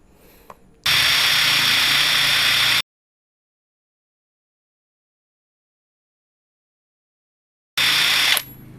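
A Total TIRLI2002 cordless impact driver runs at full speed in a loud, steady whir for about two seconds, then everything goes silent before a second short burst of the motor starts up near the end.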